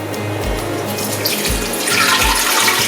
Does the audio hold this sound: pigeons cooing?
no